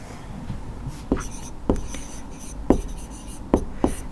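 A trigonometry solution being written out by hand in a Class 10 maths lesson: close, scratchy pen strokes with several distinct taps as the writing goes on, otherwise quiet.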